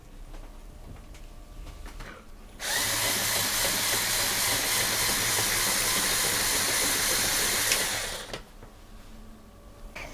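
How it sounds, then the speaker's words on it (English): LEGO Technic motor on a Volvo Mars Mission model turns gears to rotate the superstructure, giving a loud, steady whirring buzz that starts abruptly, runs about six seconds and then stops, with quiet clicks before and after. "The motor actuates the gear, and the whole superstructure is rotated around the lower gear rack."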